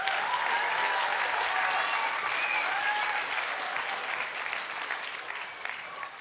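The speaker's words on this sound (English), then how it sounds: "So applause again" A large lecture audience at a Christmas lecture breaks into sustained applause, a dense and even wash of many clapping hands that holds steady and then slowly fades.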